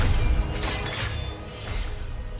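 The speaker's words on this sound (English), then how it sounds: "When these chains shatter" Magical chains shatter in the World of Warcraft Eternal Palace finale with Azshara, a breaking, crashing burst spread over a steady layer of game sound rather than one crisp hit.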